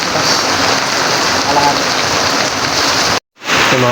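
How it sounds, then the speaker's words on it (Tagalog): Rain falling steadily during a farm harvest in wet weather, a dense, close hiss that cuts out briefly near the end and then returns. "Mga kapakners, at maulan pa rin."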